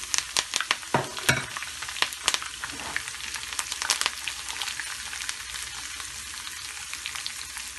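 Garlic, curry leaves and spices sizzle in hot oil for khatti daal, a steady close crackle with bursts of sharp spits and stirring clatter early on, settling into an even hiss.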